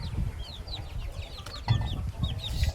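Farmyard hens cluck and squawk in short, repeated bursts close by, with high chick peeps scattered between them and no talking.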